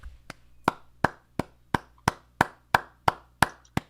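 A soft golf clap: slow, evenly spaced claps, about ten sharp single hits at a leisurely pace, sounding deliberate and unenthusiastic, with no other sound.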